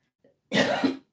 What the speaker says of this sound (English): Sorry for coughing down the mic.